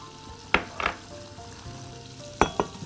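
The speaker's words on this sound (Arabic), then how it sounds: "نحط الدقيق، هقلب بس كده شوية" Flour stirred into a frying pan for béchamel sauce, a steady sizzle broken by a few scraping strokes of the spoon, close and fairly loud.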